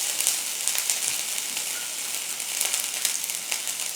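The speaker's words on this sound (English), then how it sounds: "So now I'm just going to saute it for like 5 seconds" Ginger garlic paste sautéing in olive oil in a pan, a close, bright sizzle with small crackling pops, steady and unbroken for a few seconds with no voices.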